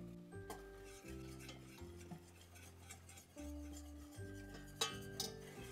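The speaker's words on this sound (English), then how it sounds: "Now I'm gonna move it around gently like this because we want to cook this flour a little bit." Flour cooks into a roux as it is gently stirred in a pan, giving soft scraping and faint sizzling beneath quiet, sustained musical tones, with a couple of sharper utensil clicks near the end.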